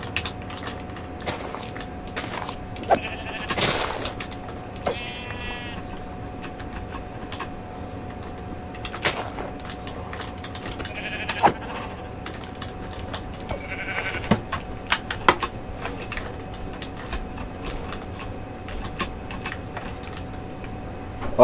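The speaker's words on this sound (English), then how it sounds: "Sheep." Minecraft sheep bleat several times at scattered moments, the wavering calls sitting over steady keyboard typing and clicking, with no talking.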